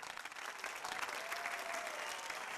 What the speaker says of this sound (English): Keep clapping. Keep clapping. Keep clapping.